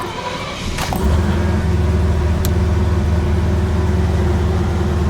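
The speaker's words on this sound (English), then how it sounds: "Okay, start it up." A Mercedes car engine cranks briefly and catches, then settles into a steady, close, even idle with a low throbbing hum.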